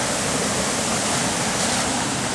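Small backyard waterfall flowing, a steady, dense, close rushing of water with no pauses and no voices.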